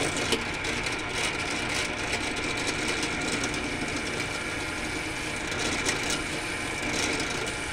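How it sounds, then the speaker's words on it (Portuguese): A drill bores eight spoke holes into a miniature wooden farm-truck wheel, producing a continuous dense grinding, rasping whir held at steady loudness throughout. "Ali está furando, então vão ser 8 furos, porque são 8 raios."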